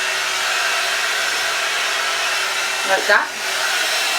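Rotating hot air brush on a warm or hot setting, spinning through a section of hair: a steady close blowing whir throughout, with a brief swelling shift near the end as the barrel turns, and a few quiet spoken words.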